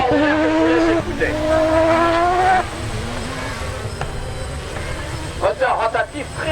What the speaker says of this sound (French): Moteur rotatif tri-rotor en 2 litres.